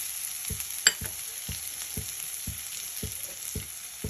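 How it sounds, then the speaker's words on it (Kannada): Ridge gourd chutney ingredients of cooked gourd, roasted peanuts, grated coconut, tamarind and tomato sizzle softly in a pan, with regular stirring scrapes about twice a second and one sharper clink, close and without talk. "ಇದಿಷ್ಟು ಹೀಗೆ ಹುರ್ಕೊಂಡ್ಬಿಟ್ಟು ಸ್ಟವ್ ಆಫ್ ಮಾಡ್ಕೊಂಬಿಡೋಣ"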